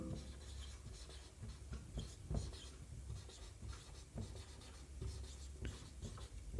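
A pen writes out a maths definition by hand, with quiet, close scratching strokes in short bursts and pauses and no voice over it.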